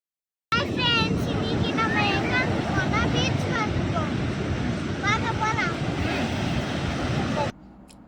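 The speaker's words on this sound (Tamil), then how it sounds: "நெக்ஸ்ட்டு பீச்சுக்கு வந்தாச்சு" Waves and wind at Marina Beach, Chennai, make a continuous broad wash of noise with a crowd of voices and calls layered over it. The sound starts abruptly and ends abruptly near the close.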